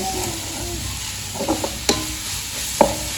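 Bread roll masala filling stirred in a pan, scattered scraping knocks of a spoon against metal over a low background hiss, with a few sharper clinks standing out in the middle and near the end.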